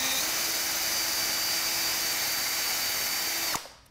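A power drill whines steadily at high speed for several seconds while drilling an angled countersink into pallet wood, then cuts off abruptly and winds down.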